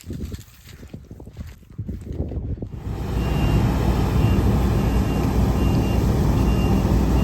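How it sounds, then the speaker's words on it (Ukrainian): A combine harvester unloading its grain tank into a truck body in the field, a loud steady rushing pour of grain over engine drone that builds after a few seconds of clanking and rumble. "Бачите, перший бункер Альдазору пішов у кузов."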